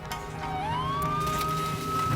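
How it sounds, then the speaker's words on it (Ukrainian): A town evacuation siren sounds near a volcano, a steady rising wail that climbs in pitch and then holds a long sustained tone over low background rumble. "на вулицях по кілька разів на місяць лунають сирени про евакуацію"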